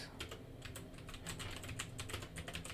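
Rapid keystrokes on a computer keyboard as a search phrase is typed, an irregular run of light clicks close to the mic over a low steady background hum, with no voices.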